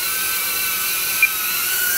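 A tiny Eachine Trashcan mini quadcopter drone hovers in stabilized mode, giving a steady, high-pitched whining buzz of small propellers that holds constant and close throughout, with no talking.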